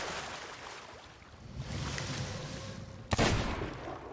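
Cannon fire from a ship in the pirate game Sea of Thieves, a single sharp boom near the end standing out over a steady wash of sea and ship ambience.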